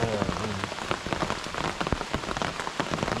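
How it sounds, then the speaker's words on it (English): Heavy rain drums steadily on a hunting blind at a Kentucky archery deer opener, a dense patter of close drops with sharp individual hits. "Well, now it's raining."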